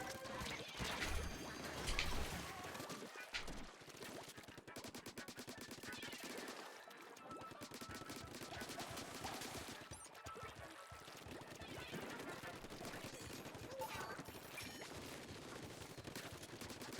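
Enemy weapons firing in the ink-shooting game Splatoon 2: dense, continuous rapid-fire bursts and splattering blasts fill the whole stretch at a steady level, with a few dips.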